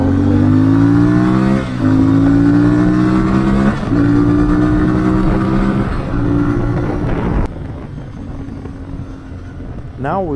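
A CFMoto 450MT motorcycle accelerating from 0 to 100 at near full throttle, its engine climbing in pitch through several gear changes, loud and close, then easing off with a final brief rev.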